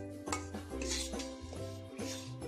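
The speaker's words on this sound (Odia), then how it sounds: "ଆଉ ଦୟାକରି କଣ୍ଟିନ୍ୟୁଅସ୍ଲି ଗୋଳେଇବେ, ନହେଲେ ବେସନ ତଳେ ଲାଗିଗଲେ ପୋଡ଼ିଯିବ" Gram flour being stirred while it fries in a pan, with repeated scraping and clinking of a metal spoon against the pan, steady and close over a low background hum.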